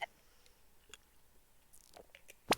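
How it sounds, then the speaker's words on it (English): A cartoon blink sound effect from a soundboard: short, light clicks and squishy pops scattered over a couple of seconds, quiet and close, ending in a sharper final click. "That is the sound of him blinking."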